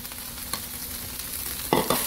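Cooked rice is stir-fried in oil in a pan for Chinese-style fried rice, a soft continuous sizzle with a few sharp scrapes and knocks of the utensil near the end, close by and without speech.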